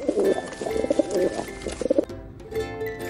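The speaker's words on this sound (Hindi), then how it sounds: "पिजॉन मीन्स कबूतर।" A pigeon coos in soft, throaty, rolling phrases that repeat for about two seconds, close by, and then fade into a quieter tail.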